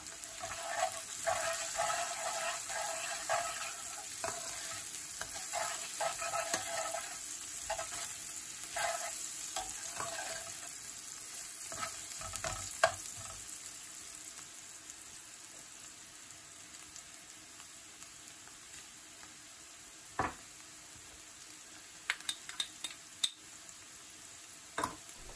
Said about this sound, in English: Add the salt and dried methi. Stir through and cook for 30 seconds.